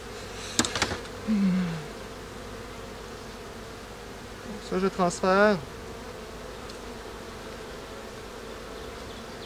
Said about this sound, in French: Les abeilles sont beaucoup agitées.